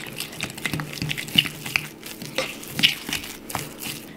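Gluten-free flour and salt being stirred together in a bowl, giving soft scraping and light tapping strokes in an irregular rhythm, close by and fairly quiet with no talking.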